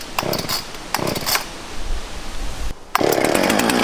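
Chainsaw running close by, a loud buzzing engine that revs in bursts, drops back briefly, then surges again at full power.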